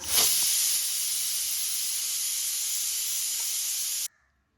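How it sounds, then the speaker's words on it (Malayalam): A loud, steady jet of steam from a pressure cooker cooking chicken hisses with a high whistling edge for about four seconds, then cuts off abruptly into near silence. "അങ്ങനെ ഇപ്പോൾ ഒരു വിസിലായിട്ടുണ്ട്"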